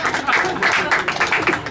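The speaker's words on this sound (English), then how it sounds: "Don't wait for that applause to die down." A live outdoor audience in Frontierland at Disneyland applauds after a show, a steady wash of claps with voices mixed in, fairly close and sustained throughout.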